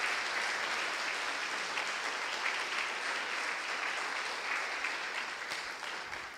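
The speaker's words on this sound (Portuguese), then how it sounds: "Aplauda o Senhor." A congregation in a Catholic church applauds during a priest's homily, a full, sustained roar of many hands clapping that stays even for several seconds and gradually fades toward the end.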